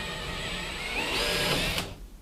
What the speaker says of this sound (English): We're drilling the same size holes as we did for the corners of the wall mount.